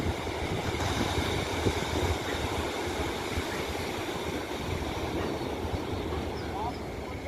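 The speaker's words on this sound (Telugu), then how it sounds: "ఆ సముద్రపు హోరు వినండి." Sea waves roar steadily on a beach at sunrise, a continuous broad wash of surf that holds at an even, fairly loud level throughout with no clear breaks.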